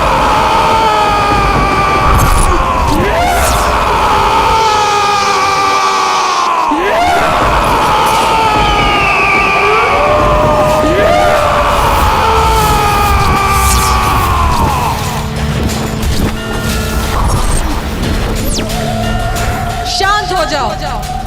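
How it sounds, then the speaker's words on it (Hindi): A demon in a mythological battle drama yells loudly in long, powerful shouts with sweeping pitch, repeated several times in close succession over a dense, noisy background. "इस प्रकार तू चीख कर मात्र यहाँ के चमगादड़ों को आतंकित कर सकता है"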